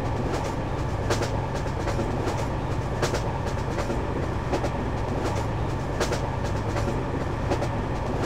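A Norfolk Southern freight train hauling shipping containers rolls along the track with a continuous rumbling roar and rhythmic clickety-clack of wheels over rail joints, steady throughout.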